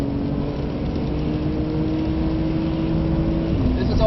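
A Porsche Carrera 992 accelerates along a straight on the wet Nürburgring, its engine a loud, sustained drone with steady harmonic tones heard from inside the car, rising toward the end.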